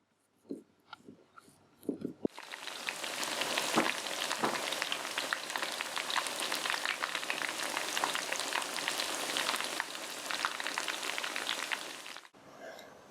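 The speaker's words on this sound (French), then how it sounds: "J'ai frit les veg burgers dans de l'huile d'olive, ce qui donne un goût incomparable." Veg burgers of potato and lupin frying in olive oil, a steady loud sizzle with crackles that starts after a few soft knocks and runs for about ten seconds before stopping abruptly.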